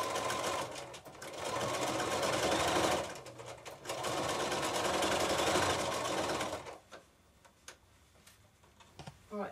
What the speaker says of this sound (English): now I've stitched all the way around my cushion